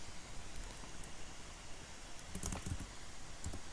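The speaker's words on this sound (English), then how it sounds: "We just need to type this one, type enter." Soft keystrokes on a computer keyboard, faint and close: a few scattered taps, then a quick cluster of presses near the end over low room hiss.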